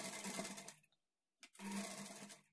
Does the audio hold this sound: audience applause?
no